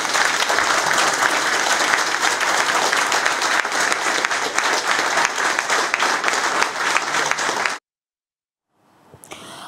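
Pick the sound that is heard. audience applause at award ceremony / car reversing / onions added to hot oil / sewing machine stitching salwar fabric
audience applause at award ceremony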